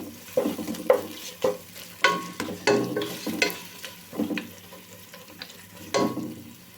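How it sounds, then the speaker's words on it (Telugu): Ginger garlic paste frying in a pan for a restaurant-style basmati biryani, with irregular close stirring scrapes and clanks over a low sizzle, and no voices. "అల్లం వెల్లుల్లి పేస్ట్ కూడా మంచిగా పచ్చివాసన అయితే వేపుకోవాలి"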